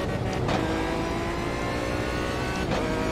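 GT1 race car in the iRacing sim, its engine droning steadily and loudly throughout with two brief rising surges as it revs or passes, no voices over it.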